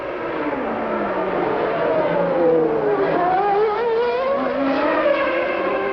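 Formula One cars race through the streets of Monte Carlo at the 1991 Monaco Grand Prix, a red Ferrari leading a train of cars, their high-pitched engines wailing loudly and continuously as revs rise and fall through the corners.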